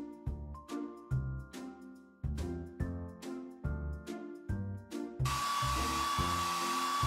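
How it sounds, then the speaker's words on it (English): In a Paw Patrol kids' video game, a cartoon hair dryer blows a steady whooshing hiss with a faint whine as it dries a pup, starting near the end after bouncy game music and holding loud and constant. "Tap the hair dryer to blow dry the pup's hair."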